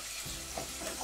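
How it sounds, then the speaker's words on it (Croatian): Chopped onion frying in a pan as part of a stuffed courgette dish, giving a steady, close, soft sizzle with faint stirring and a few light knocks, no voices. "Za to vrijeme dok mi se ovaj luk ovdje prži"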